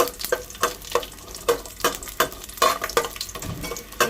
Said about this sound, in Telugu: చూడండి వేగినాయి కదా కొంచెం ఎల్లిపాయలు